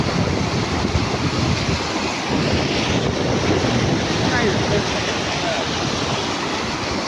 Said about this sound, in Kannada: ಇದು ಹರಿಯೋ ನೀರು ಸರ್